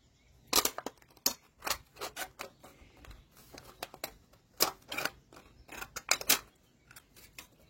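Scissors snip through homemade paper labels in a quiet room, a string of short crisp cuts arriving in irregular bursts, close and fairly soft, with no one talking.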